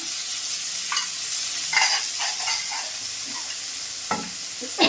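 Chilies frying in a couple of spoons of hot oil for a green tomato chutney give a steady, loud sizzle with sharp spluttering pops scattered throughout.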